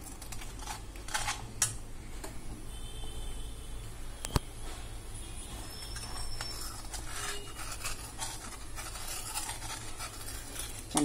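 Milk and sugar stirred in an iron kadai while making milk peda, a steady soft scraping and swishing of a spoon against the metal pan with occasional clinks, close and quiet throughout.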